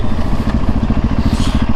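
Supermoto motorcycle engine revving hard and steadily during wheelie practice, a loud, close, continuous throbbing roar with a rapid pulsing rhythm throughout.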